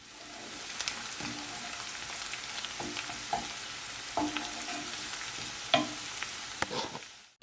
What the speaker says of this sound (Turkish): 1 tane yemeklik doğradığım soğanı ve 2 diş sarımsağı ilave ediyorum. Yaklaşık 4-5 dakika kavuruyorum.